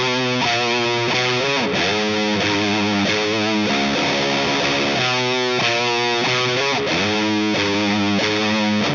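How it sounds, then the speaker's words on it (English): A heavily distorted electric guitar played through a distortion pedal plays chugging riffs and sustained chords, loud and saturated, alone without voices. "Just roll back the gain and create a solid boost or overdrive sound"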